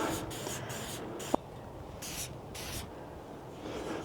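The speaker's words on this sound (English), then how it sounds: "Then we spray on the developer, and we let that sit for some amount of time" Several short hissing bursts from an industrial aerosol can of developer, spraying in quick puffs with a small click partway through, outdoors and fairly close.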